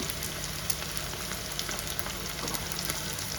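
Chicken pickle sizzles steadily in a hot pan while Schezwan fried rice is being made, a dense continuous crackle with scattered sharp pops and no talking.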